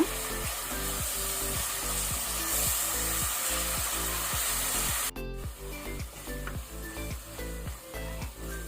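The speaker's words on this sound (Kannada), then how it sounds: "ಇದನ್ನು ಸ್ವಲ್ಪ ಫ್ರೈ ಮಾಡ್ಕೊಳ್ಳುವ, ಹಸಿ ವಾಸನೆ ಹೋಗೋ ತನಕ." Ginger garlic paste and green chillies fry in a pan with a steady, close sizzle, punctuated by regular scraping strokes of a spatula stirring the mixture; no one speaks.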